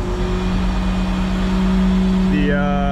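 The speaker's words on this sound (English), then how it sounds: "Let's go ahead and run the hydraulics a little bit." A semi truck engine idles loudly and steadily with a hydraulic PTO pump engaged, its low hum shifting up in pitch near the end as the pump load changes.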